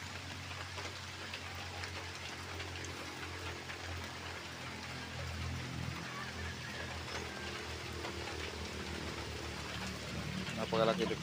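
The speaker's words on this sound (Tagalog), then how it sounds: "Grabe na pala kasing ulan." Heavy morning rain falls steadily on surfaces near a small shop and poultry area, a dense continuous hiss that grows a little louder toward the end, with a voice talking and faint fowl sounds in the background.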